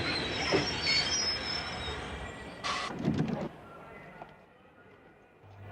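A cartoon train rolls along rails with a steady rumbling clatter and a brief higher squeal partway through, moderately loud at first then easing off as it fades, without talking over it.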